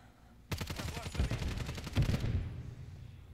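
Sustained automatic gunfire from a Superi 46 in a video game, a rapid loud burst of shots lasting under two seconds that then cuts off, with no talking.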